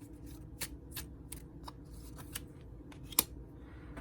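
Tarot cards handled while one is picked from a changed-up deck, giving soft papery shuffles and several sharp card flicks and snaps, close by, with a low steady hum underneath and no talking.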